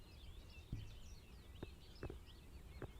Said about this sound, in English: What is that? It's just a bird